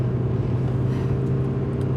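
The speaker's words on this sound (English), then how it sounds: "I can hear a car engine." A hotwired car's engine idles in a steady low rumble with a constant hum, close and continuous throughout, with no voices over it.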